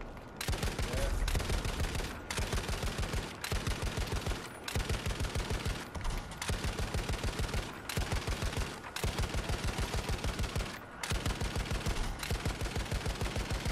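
Machine gun fire in Battlefield 5, Pacific Theatre on Iwo Jima, rattles in long rapid bursts separated by short pauses, loud and close, sustained across the whole stretch.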